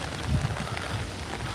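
Steady rain falls at Disney's Polynesian Village Resort, a soft continuous hiss with low rumbling wind buffeting the microphone throughout.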